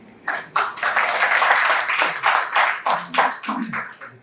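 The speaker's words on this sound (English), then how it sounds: "So once again, a big round of applause for the" An audience at a faculty development programme session claps for the coordinators, a ragged stretch of overlapping hand claps of moderate loudness with uneven bursts and a few louder individual claps.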